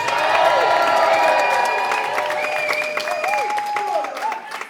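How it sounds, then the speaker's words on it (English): A crowd at a poetry slam cheers and applauds a poet taking the stage, a loud, dense wash of clapping with whoops and voices on top that eases off slightly toward the end. "Let's get a cheer going. Let's make it a loud one."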